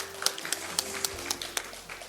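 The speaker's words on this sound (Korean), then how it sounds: "수고해 주신 김종일 교수님께 다시 한번 큰 박수 부탁드립니다" A few sparse, evenly spaced claps from a conference audience after a lecture at a Jeju Biennale pre-conference, quiet and thin, with faint room tone between them.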